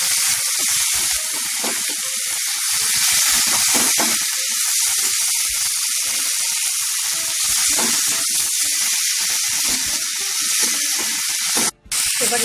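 Loitta (Bombay duck) fish frying with ginger paste in a pan, giving a steady, loud sizzle and hiss that runs unbroken from start to end, with faint stirring scrapes under it and a brief dropout near the end.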